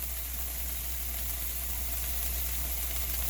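Onions sautéing in a pan give a steady, even sizzle with a low background hum, constant and close throughout, with no voices.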